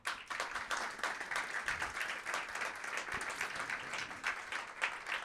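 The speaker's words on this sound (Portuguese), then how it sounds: "Gente, eu queria honrar a vida dessas pessoas com uma salva de palmas para o Senhor." A church congregation breaks into sustained applause honoring members, dense clapping from many hands that holds steady and fairly loud for the full stretch without speech over it.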